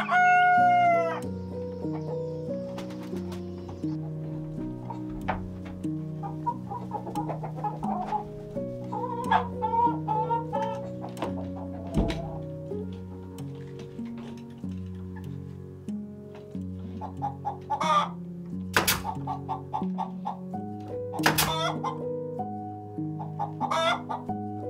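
Hens cluck and murmur continuously inside a henhouse on a Norwegian farm, with scattered sharp squawks and clicking sounds and one crow-like call near the start, all close and fairly loud.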